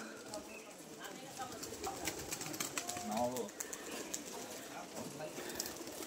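Pigeons on a village roof near a bird pen, soft low cooing murmurs heard faintly amid outdoor background noise and a voice talking over them.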